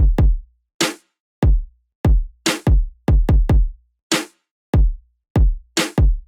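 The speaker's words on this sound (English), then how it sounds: "I just added some drums." A sparse, dry drum pattern: deep kick thumps alternating with sharp, noisy snare hits in a steady, simple loop, with no other instruments.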